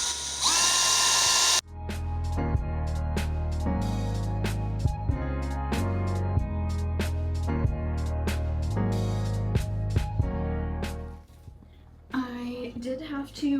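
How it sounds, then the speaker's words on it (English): Power drill boring into wooden pieces of a DIY market sign: a loud motor whine, then repeated short ratcheting, clicking bursts in quick irregular succession, ending in quieter handling noise. "I had to drill 2 holes because it was splitting, even with the pilot holes"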